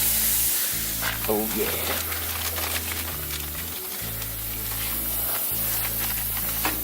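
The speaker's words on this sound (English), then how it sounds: "look at that baby sizzle" Goose breast hitting a hot grill for smoky flavor, giving a broadband sizzle over a low droning tone, with someone speaking briefly over it.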